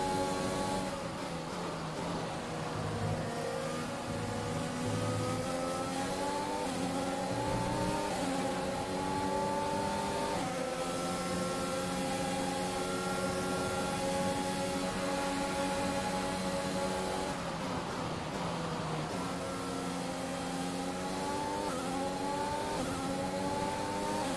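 An F1 car engine in F1 2021 screams continuously, its pitch climbing through repeated upshifts and dropping between gears, loud and close with no talk.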